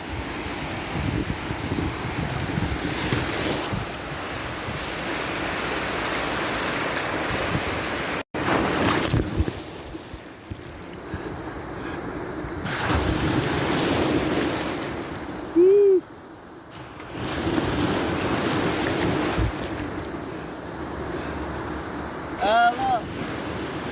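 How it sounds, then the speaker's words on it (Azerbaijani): Sea surf washes steadily on an early-morning winter beach, cold but windless, as someone wades in, with wind buffeting the microphone and a few brief splashes and gaps. "Mən də dənizə girirəm."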